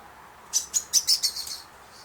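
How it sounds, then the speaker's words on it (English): A blackbird sings a short series of about five bright, high chirps in quick succession, moderately close, against a quiet winter garden background. "Excuse me, blackbirds."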